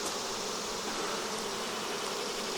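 Dense, steady buzzing of many honey bees at an open hive in summer, close and constant throughout, with no other sounds.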